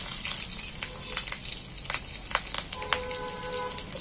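Green chilies and black cumin seeds sizzle in hot oil for Bengali-style pomfret fish, a steady close crackle with scattered sharper pops and spits.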